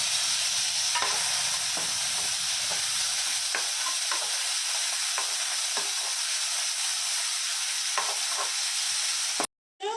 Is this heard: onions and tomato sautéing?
yes